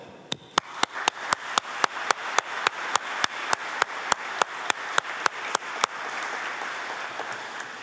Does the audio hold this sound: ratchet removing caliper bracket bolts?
no